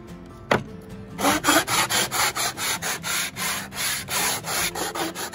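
Old belt sander working oak, a steady run of rhythmic rasping strokes after a sharp knock at the start, close and loud with no talk.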